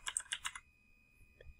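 An answer is typed on a computer keyboard: a quick burst of about five close key clicks, then a pause and one or two lighter taps.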